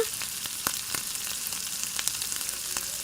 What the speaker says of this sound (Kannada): ಈರುಳ್ಳಿ ಸ್ವಲ್ಪ ಬಾಡಿಸ್ಕೊಳ್ಳೋಣ